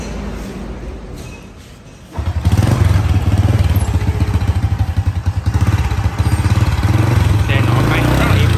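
A 1995 motorcycle engine starts and runs at a steady, quiet idle with a fast even putter, close by, after a few seconds of low background noise; a person speaks briefly in the background.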